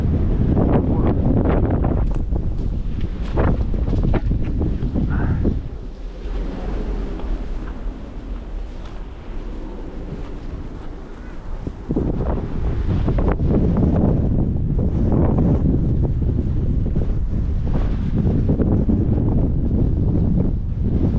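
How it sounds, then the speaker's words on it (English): Strong wind on Deer Island buffets the microphone in loud, continuous roaring gusts, briefly easing midway before surging again, with no one talking. "Very, very windy."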